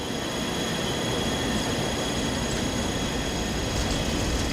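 A powerful jet engine runs at partial throttle on a test stand with a steady, loud, broadband roar and whine that holds constant throughout.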